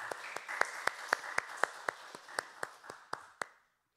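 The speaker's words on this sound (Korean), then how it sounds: "우리 하나님께 영광의 박수 올려드리시겠습니다." A church congregation claps together in a steady unison rhythm during a Sunday worship service, about four sharp claps a second that grow softer and stop after roughly three and a half seconds, with no voices over them.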